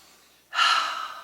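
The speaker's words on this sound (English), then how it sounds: "Let's take 3 beautiful breaths together." A single deep guided breath during a calming trauma-healing exercise: after a short quiet moment, a soft, airy inhale or exhale begins suddenly and fades gradually, close and gentle.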